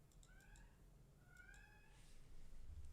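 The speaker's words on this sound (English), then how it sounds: "That's our cat." A pet cat meows faintly twice in quiet, drawn-out calls, heard over a low room hum with no talking.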